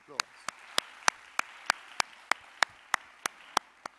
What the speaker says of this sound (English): Please, sir, give him a round of applause.